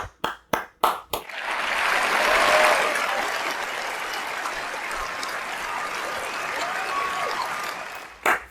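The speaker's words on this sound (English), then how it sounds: "Let's have a round of applause, guys." A round of applause from a chess livestream audience, opening with several sharp single claps before swelling into a sustained, steady wash of clapping that holds for several seconds, then ends with one last clap.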